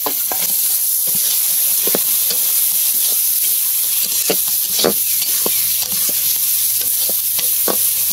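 Fish frying in a pan of hot oil in a home kitchen, a steady loud sizzle throughout with scattered crackles and pops and occasional stirring scrapes, no voices.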